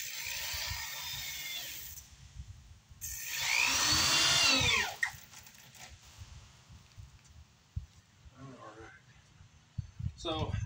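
A power drill drives screws into a wall during interior trim work, with a sustained whine of a few seconds in the middle, shorter bursts before and after, and scattered clicks and knocks around it.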